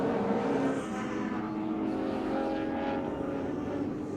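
BMW and Jaguar Group A touring cars racing at the Winton Festival of Speed heritage race, a loud continuous engine roar with shifting pitch as the cars run nose to tail, no voices.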